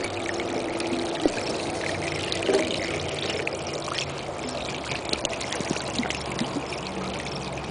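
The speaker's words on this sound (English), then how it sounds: "I've got a little bit left in this bottle here. I'm just going to kind of pour it on out here." Leftover water poured out of a snuffer bottle beside a sluice used for gold prospecting, a steady close trickle and splash running continuously for several seconds outdoors.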